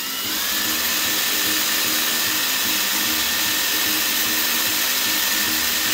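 A small high-pitched rotary tool whines steadily and close while drilling out a rivet on a die-cast Matchbox Land Rover Defender 90 model with a plastic base, one continuous run without pauses.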